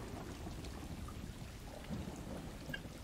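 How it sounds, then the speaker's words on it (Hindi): Rain and rolling thunder in the video game Stray, a steady downpour with low rumbling thunder underneath, continuous and moderately loud throughout with no voices. "यहाँ पे मस्त बारिश चालू है, बहुत ही ज्यादा बारिश चालू है, बादल भी गरज रहे हैं।"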